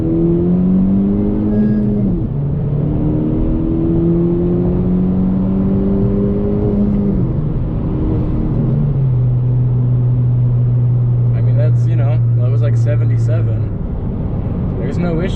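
A 10th gen Honda Civic Si pulls hard up an interstate on-ramp, engine drone climbing in pitch through the gears, a shift pause, then a sustained steady tone, heard from inside the cabin.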